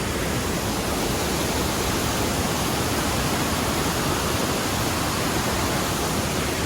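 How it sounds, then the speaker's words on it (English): A waterfall swollen by rainy-season flooding roars as a dense, steady, loud wash of falling water, continuous and close with no voices. "There's just so much water coming down right now."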